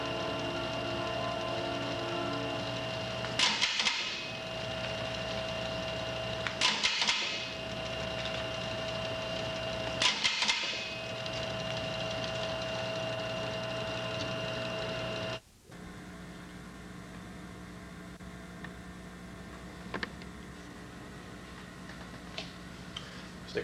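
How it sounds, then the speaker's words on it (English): An MGL International tape applying machine runs with a steady mechanical hum, broken by three sharp, evenly spaced clacks, then settles into a quieter drone with faint ticks. "The equipment you see in here in front is MGL International tape applying system."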